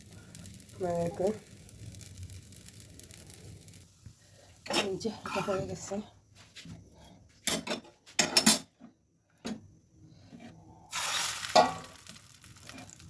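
Egg pitha batter sizzles softly on a hot tawa griddle while a spatula scrapes and clinks against the pan, with someone talking intermittently over the cooking sounds.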